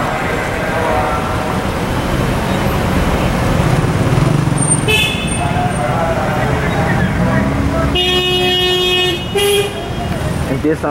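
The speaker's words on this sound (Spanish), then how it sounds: "empiezan los bocinazos" Car horns blare in busy street traffic on Jirón Camaná in central Lima, with several sustained toots and short honks over a constant roar of engines and road noise, some horns close and loud.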